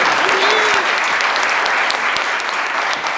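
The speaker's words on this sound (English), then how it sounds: "Just give a round of applause for our panel" Audience applause for a panel of speakers at a law review symposium on migration, steady dense clapping throughout, fairly loud and close, with a brief voice heard near the start.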